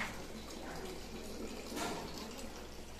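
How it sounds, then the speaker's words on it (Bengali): Water running into a container at home, a faint continuous fill and splash with a brief surge near the middle, heard at a low level. "কিভাবে জল ভরছে?"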